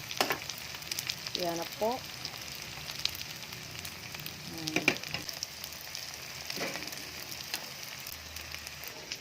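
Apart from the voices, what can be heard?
lumpia frying in a pan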